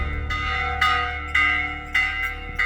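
A village church bell rings an alarm during an attack in Nicaragua, tolling steadily, each strike ringing out and overlapping the last in a sustained metallic hum, about five strokes with no voices.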